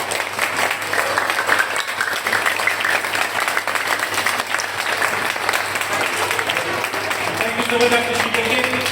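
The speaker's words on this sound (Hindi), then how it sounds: "कि खड़े होकर तालियों से इसके इस्तेमाल के लिए डॉक्टर शहबाज साहब" An audience at a gathering applauds with sustained, dense clapping that fills the whole stretch, with voices faintly beneath it.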